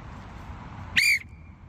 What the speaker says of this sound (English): So you got to listen out for the amount of whistles